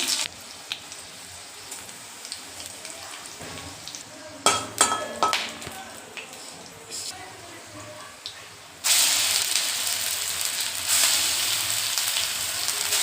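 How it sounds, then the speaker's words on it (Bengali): Taro sizzles in hot oil in a kadai with a green chilli and nigella seed tempering. A few stirring clatters come first, then a loud, bright frying hiss takes over and continues steadily to the end. "এখন প্রথমে কচুটা করে নেব। কাঁচা লঙ্কা, কালো জিরে ফোড়ন দিয়ে করবো।"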